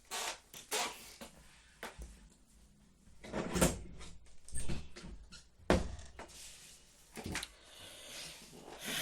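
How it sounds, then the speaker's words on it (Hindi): A door is opened in a quiet room, giving a series of faint creaks, rattles and knocks spread over several seconds, close by and with no voices. "एक मैं दरवाजा खोल दूं"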